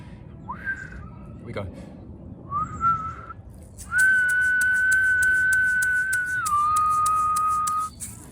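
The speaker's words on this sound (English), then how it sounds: "When we breathe in and then we breathe out, the breathing out turns into a whistle" A few short rising whistles, then a long steady whistled tone on a meditative out-breath, soft and close with faint breathy noise.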